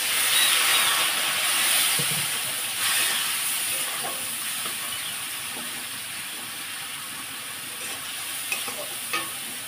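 Water poured onto turmeric and chili powder frying in a pan hisses and sizzles loudly and steadily, easing slightly over several seconds, with faint stirring scrapes and no voices.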